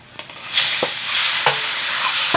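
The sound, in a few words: pork intestine chicharon (ginabot) frying in its own fat, stirred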